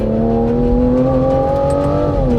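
An Aston Martin Vanquish's 5.2-litre twin-turbo V12 pulls hard, its loud, smooth engine note climbing steadily through a short burst of acceleration heard from inside the car.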